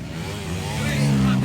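Racing motorcycles, 150cc against 250cc, in a ladies' category final at Dahican, Mati, Davao, roar steadily and loudly, their engine drone rising in pitch toward the end, with crowd noise mixed in.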